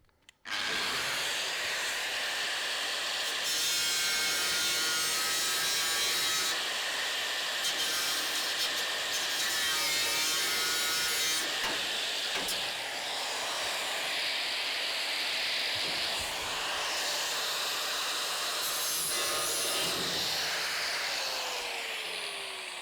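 Angle grinder with a cutting disc slicing through a rusted roof panel on a 1970 Holden HG ute, a loud continuous high-pitched grinding whine with shifting pitch that runs almost the whole time, alone without talk.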